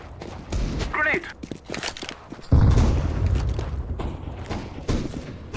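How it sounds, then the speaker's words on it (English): A grenade goes off in Counter-Strike: Global Offensive, a loud boom bursting out midway through busy match audio, with a voice talking over the scattered gunfire and footsteps. "Grenade."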